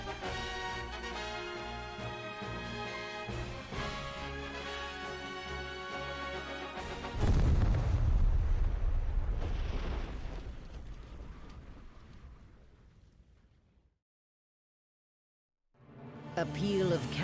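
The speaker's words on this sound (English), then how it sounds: "A peal of cannon fire washes over the sandy wastes" Cannon fire in the video game Triangle Strategy, a heavy rumbling boom bursting in over a loud musical score, swelling then slowly fading into silence before the music returns.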